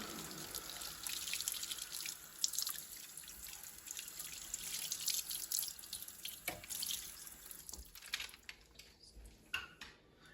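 Tap water runs and splashes into a sink while a die-cast model is rinsed, a steady close rush with shifting splashes that tapers and turns to drips near the end, no voices.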